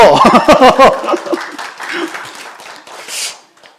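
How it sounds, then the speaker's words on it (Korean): Applause from a church congregation at a Sunday worship service: a brief spoken call opens, then a dense wash of many hands clapping fills the room and slowly fades. "아멘, 박수!"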